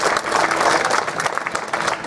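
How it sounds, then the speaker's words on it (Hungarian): Guests clapping at a Hare Krishna wedding ceremony in Budapest, lively and dense applause with a few stronger bursts, running close and loud with no speech on top. "Nagy tapsot kérünk, és egy hatalmas rívó!"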